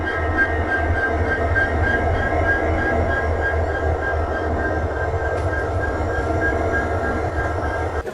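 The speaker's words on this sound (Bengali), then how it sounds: "এই হচ্ছে আমাদের পুরো ট্রেন।" A train stands at a station before departure on the Dhaka to Agartala route, giving a steady, loud low rumble with a constant hum and faint clatter throughout, with no voices.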